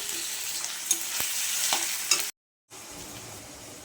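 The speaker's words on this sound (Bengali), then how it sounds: "দিচ্ছি পেঁয়াজ কুচি, দিচ্ছি আদা, কাঁচা লঙ্কা আর রসুন বাটা।" Chopped onion, ginger, green chili and garlic paste fry in a pan after dried chili and bay leaf, giving a steady bright sizzle with a few stirring clinks, broken by a short silent gap before the sizzle resumes.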